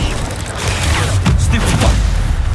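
In Hogwarts Legacy, an Incendio fire spell bursts out as a loud, close whoosh of flame with crackling, booming mechanical noise from the game.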